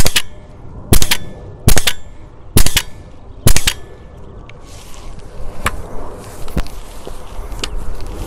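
Five loud, sharp video-game gunshots ring out at roughly even intervals, followed by quieter clicks and rustling.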